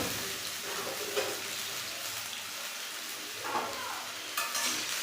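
Potato pieces frying in a pan, a dense continuous close sizzle broken by a few louder stirring scrapes, with no voices over it.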